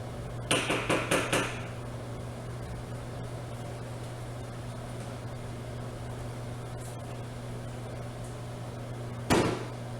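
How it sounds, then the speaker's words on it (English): A steady low hum of a running microwave oven warming a teaspoon of butter, opened by a quick series of clicks and taps, with a clunk near the end. "I'm gonna put it in the microwave."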